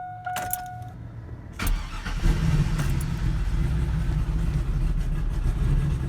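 A truck engine cranks from dead cold after a few small clicks, catches, and settles into a loud, steady, rumbling idle close by, with no talking.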